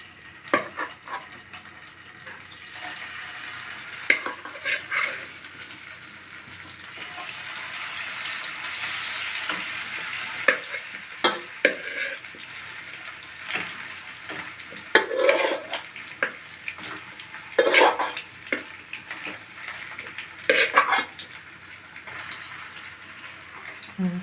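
Marinated chicken pieces sizzle in a pan as they are dropped in one by one, with soft frying hiss, spoon and pan clinks, and a few sharp bursts, fairly quiet and close, with faint background voices at times.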